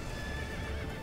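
Horse in the video game Zelda Breath of the Wild, heard as a brief, quiet whinny over a soft clatter of hooves against a constant background hum.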